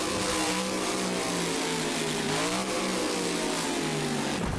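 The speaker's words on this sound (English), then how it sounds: "Oh, huge air, huge crash, front flip, keeps going." Mayhem, a Monster Jam truck, launches off a ramp on an orange Hot Wheels track and crashes, with a loud engine revving and surging steadily throughout before cutting off abruptly at the end.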